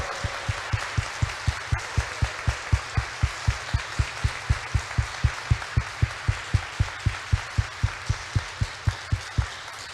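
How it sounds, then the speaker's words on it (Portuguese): A church congregation at Sunday Mass claps together in a steady, strong rhythm of about three beats per second, with loose applause filling the spaces between the beats for ten seconds. "Receba da igreja uma salva de palmas bem forte."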